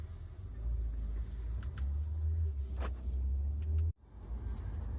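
A 2019 Mercedes-Benz A250 rolls along a road near Split, Croatia, its low engine and road rumble heard from inside the cabin, steady with small clicks, then cutting out abruptly near the end before resuming.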